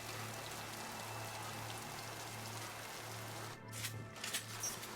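Steady rain patters down inside the video game Mass Effect 2, a constant soft wash of drops at even loudness, with a low steady hum beneath and a few brief sharper sounds near the end.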